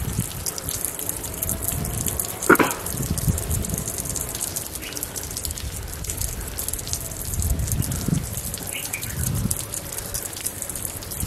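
Water gushing steadily from an open tap at a temple, left running by monkeys, a constant close rushing flow with a few faint knocks and background sounds over it.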